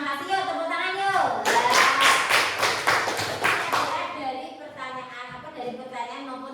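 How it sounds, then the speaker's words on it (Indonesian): A classroom group claps together in a short burst of about two and a half seconds, rhythmic and fairly close, with talk before and after the clapping. "tepuk tangan yuk"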